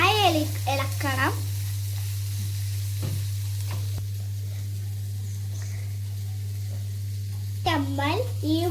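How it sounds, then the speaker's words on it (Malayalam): Onions sizzle steadily in a pan as pepper powder is stirred in, with a low constant hum underneath and a voice talking briefly at the start and again near the end. "വാടി വന്ന ഉള്ളിയിലേക്ക് നമുക്ക് കുറച്ച് കുരുമുളക് പൊടി ഇടാം. നല്ലതായി ഇളക്കണം."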